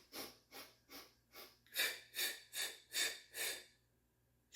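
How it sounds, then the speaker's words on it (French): Staccato breathing for an exercise, done in five counts: five short nasal sniffs in, then five sharp, louder puffs out, evenly spaced and close up in a quiet room. "la respiration saccadée en 5 temps va aider à contracter tes abdominaux profonds"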